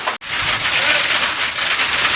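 Heavy rain with hailstones pounds down in a village, a dense, loud, continuous roar of drops and ice striking surfaces that starts abruptly after a brief gap and holds steady throughout.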